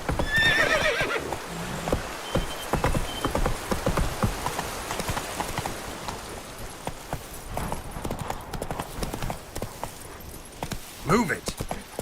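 Roach, a horse in Witcher 3, gallops with rapid, loud hoofbeats and lets out a neigh, the pounding rhythm close and dominant over background music and ambient noise.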